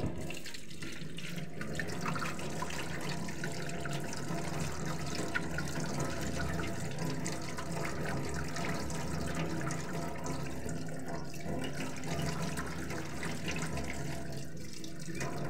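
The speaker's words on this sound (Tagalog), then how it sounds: "Hugasan natin sa tubig." Tap water runs steadily into a kitchen sink while vegetables, bitter gourd among them, are rinsed, a continuous close splashing rush with small shifts as the stream hits the produce, no talking.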